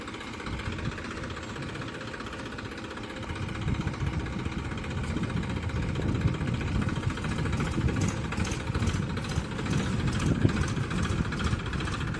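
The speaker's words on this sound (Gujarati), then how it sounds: "ટ્રેક્ટર આવ્યું છે" A tractor engine runs steadily on a farm, a continuous low rumbling drone that grows slightly louder and rougher after a few seconds, with no voices over it.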